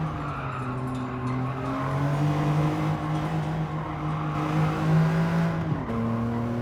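A BMW Z4 3.0i slides through a corner in Gran Turismo 7, its engine holding a steady droning note while the tires squeal briefly, with a sharp dip and shift in engine pitch near the end.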